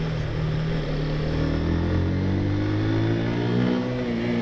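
A Haojue DR 160 motorcycle accelerates with a close, loud, steady engine drone whose pitch climbs as the revs rise, with no talk.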